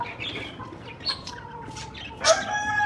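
Roosters cluck and squawk in short bursts, with one louder cackle near the end, over a low background murmur.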